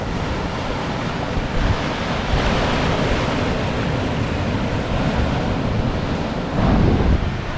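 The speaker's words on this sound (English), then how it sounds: "Right near the ocean." Ocean waves roll and break on a beach in a broad, continuous roar with gusts of wind buffeting the microphone, steady throughout with a slightly louder surge near the end and no voices.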